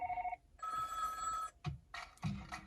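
Built-in ringtone from a Skoda Slavia infotainment system, heard up close as a steady electronic ring followed by a few quick tonal bursts, loud and clear inside the car with no talking over it.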